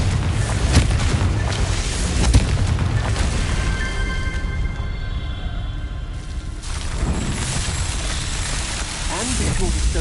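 A Confringo blasting spell from Hogwarts Legacy bursts in a loud, booming explosion with crackling fiery debris, then a quieter stretch and a second rumbling surge, dense and full throughout.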